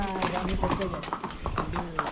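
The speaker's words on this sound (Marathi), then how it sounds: "आणि हे आहेत आपले घोडे माथेरानला" Horses' hooves clip-clop at the Matheran hill station market, a quick uneven patter of close steps that runs under steady talk and street noise.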